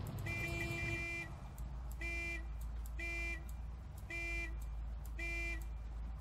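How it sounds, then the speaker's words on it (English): A car alarm-like electronic tone pulses in five evenly spaced bursts over a steady low engine rumble of a car driving behind, in the video game Ring of Elysium. "You know, Sam, I hear a car behind me"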